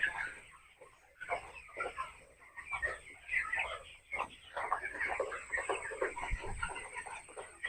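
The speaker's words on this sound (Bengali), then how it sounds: "আর মুরগিগুলো তো পোকা খাওয়ার ওস্তাদ দেখেন সব মুরগি দেশি মুরগি" Native hens on a poultry farm, feeding on termites, cluck and chatter in bursts throughout, moderately near, with busy overlapping calls and faint background noise.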